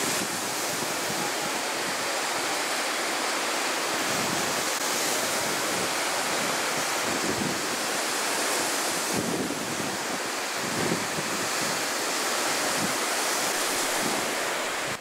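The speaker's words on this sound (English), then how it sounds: "It's actually quite violent water right now, but it's hard to tell." Rough, violent ocean surf pounds the shore beside a lighthouse, a dense and continuous roar of crashing water mixed with wind buffeting the microphone, loud and steady throughout with no voices.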